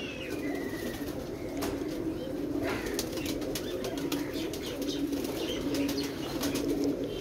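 A pigeon caught in the rain, held close, gives steady low coos while wings flap and rustle in short bursts throughout.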